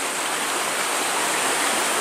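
River water rushes steadily near the Baume cave at Les Claparèdes, a loud, unbroken wash of flowing water with no pauses.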